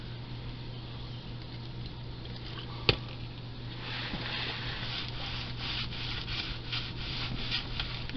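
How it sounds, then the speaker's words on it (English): A surface on an RV's underside is wiped clean with rubbing alcohol, producing soft repeated rubbing and scrubbing strokes close by, with one sharp tap partway through and the rhythmic rubbing growing busier toward the end. "clean this belly good with rubbing alcohol"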